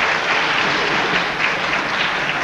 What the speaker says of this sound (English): maybe we better hold the applause until the very end, and then rather than after each word